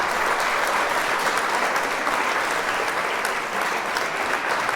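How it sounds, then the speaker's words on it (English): Crowd applause at the grand opening of Nipsey Hussle's Marathon Burger, dense sustained clapping from many hands, loud and even throughout with no break. "One more round of applause"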